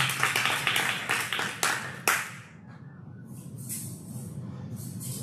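A church congregation at an anniversary service gives a brief round of applause, a burst of several distinct close claps in a short rhythmic run that fades quickly into a quieter roomy hush.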